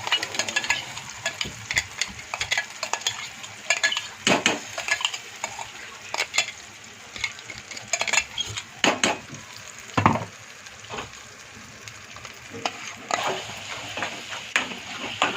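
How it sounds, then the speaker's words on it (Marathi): Onion-tomato paste with green chilli and a pinch of asafoetida sautéing in oil in a pan for Kolhapuri veg curry, with soft steady sizzling and repeated scraping and stirring clatter of a spoon against the pan. "ते थोडं पाच मिनटं तेलावर जरा परतवायचं"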